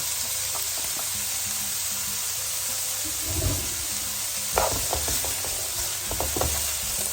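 Onion and grilled pork stir-frying in a pan for fried rice, a steady low sizzle with intermittent scraping and tapping of a spatula against the pan, close and moderately loud, no talking.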